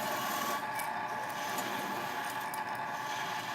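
A 3/8 inch spindle gouge cuts a wooden goblet with captive rings on a lathe, producing a steady, close rubbing and scraping hiss with a continuous whirring undertone.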